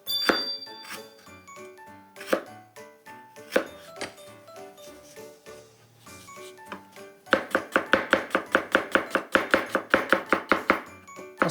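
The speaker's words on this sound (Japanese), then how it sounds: "ではまずにんにく切ります。" Knife chopping garlic into a rough mince on a cutting board, irregular knocks at first, then a fast steady run of sharp close taps.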